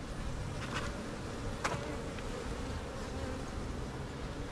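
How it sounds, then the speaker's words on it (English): Honeybees hum softly around an open hive, a continuous faint buzz with a few brief louder passes close by. "Good amount of bees up here."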